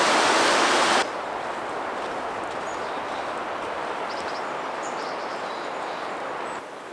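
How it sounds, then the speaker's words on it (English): Waterfalls along Shadow Creek in the High Sierra wilderness pour in a constant rushing roar, louder for the first second and then steady and slightly softer, with no voices. "Bunch of waterfalls along Shadow Creek"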